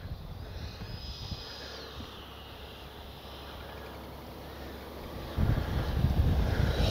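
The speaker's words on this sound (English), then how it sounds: "It's very windy." Strong wind buffets a microphone at an outdoor RC jet flying field, a low, rough rumble that grows noticeably louder in a gust near the end, with no talk.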